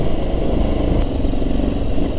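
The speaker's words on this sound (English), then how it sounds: "This bike is scary in the wet." A Honda motorcycle rides along a wet road in the rain, its loud, steady engine drone blending with a constant hiss of spray and rushing wind right up close.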